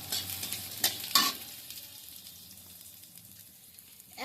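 Chopped garlic with whole cumin seeds frying in a pan, a faint, low sizzle broken by two sharp scrapes of a spoon stirring early on and another near the end.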